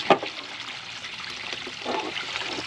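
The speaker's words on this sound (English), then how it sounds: "I put a rock there to break the waterfall up so it's not just a constant stream." A small backyard waterfall splashes over rocks in a steady, gentle trickle and patter of water, close by and fairly quiet, with a slightly louder splash near the end.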